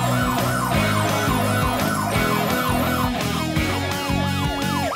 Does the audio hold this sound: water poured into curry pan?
no